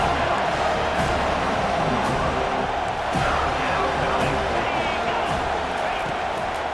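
A home crowd roaring at a college football game, Florida State against Texas, a dense, loud wash of stadium noise that stays constant throughout with no break.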